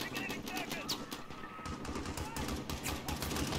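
Rapid machine gun fire in the video game Call of Duty: Modern Warfare, dense rattling bursts of shots mixed with game ambience, fairly quiet overall but sustained across the whole stretch.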